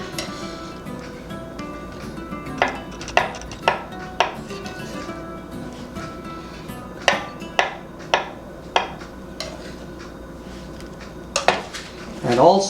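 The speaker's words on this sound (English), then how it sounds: "So I'm cutting it little chunks." A knife cuts a soft avocado into chunks on a board, making about a dozen crisp, close taps spaced irregularly over a quiet background.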